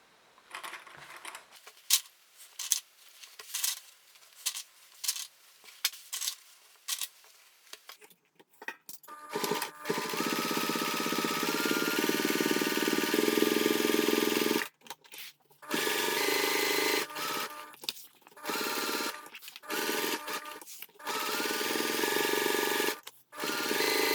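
Starting with scattered clicks and taps, a sewing machine then runs in several sustained bursts with brief stops, top stitching along a finished fabric edge, close by.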